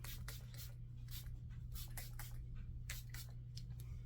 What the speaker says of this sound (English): I'm going to be using my K18 Astro Lift volumizing spray